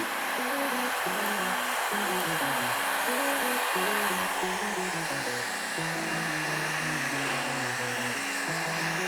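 A heat gun blows steadily as it heats windshield tint film, a loud continuous airy roar with shifting motor tones that holds for the whole stretch with no talking.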